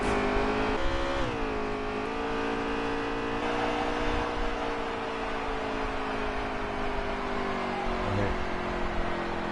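Race cars in an Outlaw Cup shootout run a road course, engines droning loud and continuous with shifting pitch as they accelerate, while a commentator speaks briefly.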